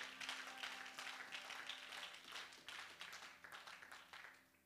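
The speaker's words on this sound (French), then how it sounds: "Oh, applaudissons vraiment." A church congregation breaks into applause, a soft and somewhat distant wash of many hands clapping steadily for several seconds, tapering slightly toward the end.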